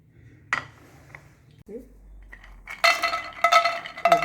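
Dry fruits roasting in a pan, with clinking and scraping of a metal spoon against the pan, a few isolated taps and then a denser run of stirring clatter close up.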